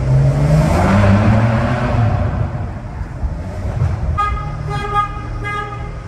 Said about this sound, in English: we got a 599 GTB right here.